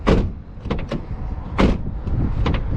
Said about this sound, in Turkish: kapı sesini duydunuz.